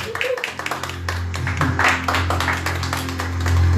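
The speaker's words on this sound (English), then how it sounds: "Clap for my Jesus" A church congregation claps during a sermon, a steady run of sharp hand claps over sustained keyboard or organ tones, fairly loud and close throughout.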